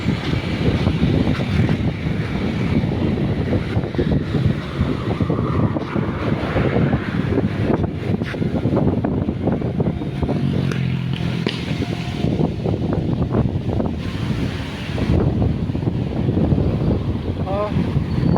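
Strong gusty wind blows after Typhoon Uwan in Tanza, battering the microphone with a constant loud roar and rumble that surges and eases throughout, with faint voices partly buried beneath it.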